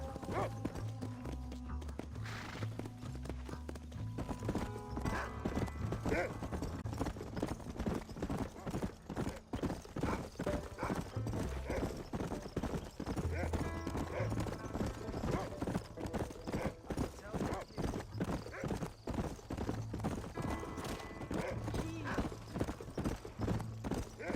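Horse hooves galloping in the video game Red Dead Redemption 2, a fast, continuous clip-clop rhythm with occasional whinnies, under dense game music and a few voices.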